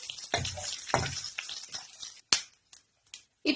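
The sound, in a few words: cumin and black pepper frying in a pan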